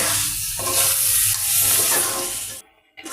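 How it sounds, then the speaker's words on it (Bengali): Meat pieces frying with spices in a pan give a loud, dense sizzle with stirring scrapes, then cut out abruptly near the end before the sound returns. "এই যে মাংসগুলো দিয়ে দিলাম মশলা কষানো শেষ এখন মাংসটা ভালো করে অনেকক্ষণ ধরে কষিয়ে নেব"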